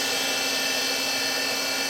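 Live tooling on a 2016 Citizen K16EVIIP CNC Swiss lathe spins at 1,500 RPM, giving a continuous bright whirring drone with a steady hum beneath, loud and unbroken, no speech.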